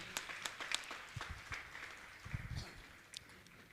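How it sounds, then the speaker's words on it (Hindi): Audience at a Jain monk's religious discourse and question session claps to honor guests, a faint, distant patter of scattered hand claps that carries on steadily without building to a roar. "जोरदार ताली बजाकर इनका सम्मान करें।"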